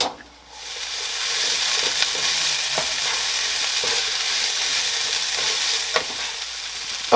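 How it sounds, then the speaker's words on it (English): Steady sizzling of peppers sautéing in a hot skillet over medium-high heat, a continuous hiss with faint scrapes and pops, close up and without talk. "we're going to sauté these in here over medium-high heat just until they're softened"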